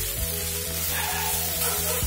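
Masala sizzling in a pan over a low flame, a steady frying hiss with soft crackles throughout, close and continuous with no voices.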